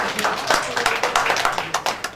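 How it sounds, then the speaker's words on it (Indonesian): A church congregation claps together during a Sunday worship service, a brisk run of loud, steady claps filling the room with no voices over it. "Beri tepuk tangan buat Tuhan."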